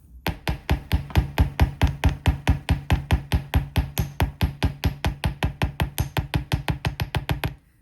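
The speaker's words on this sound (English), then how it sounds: "You're going to need your hammer and your block if you want to flatten it slightly" A hammer strikes a wire earring flat against a block in a fast, steady run of about forty sharp metallic taps, close and loud, ending abruptly.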